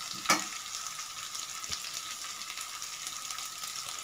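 Onion and three broken dried red chillies fry in oil for beetroot rice, giving a steady soft sizzle with one sharp clatter near the start and a faint knock midway.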